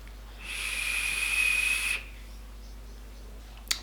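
A vape rebuildable dripping tank atomizer (Ato 24, DL) mounted on a box mod gives a thin, steady, high whistle for about a second and a half while a draw is taken, then stops, leaving faint room hiss and a small click at the end.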